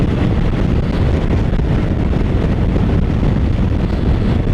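Steady, loud wind buffeting the microphone by the sea in Suffolk, a dense continuous rumble and roar with no pauses or voices.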